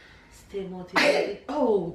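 A short, sharp sneeze bursts out between bits of casual talk, close and loud, followed by more speech.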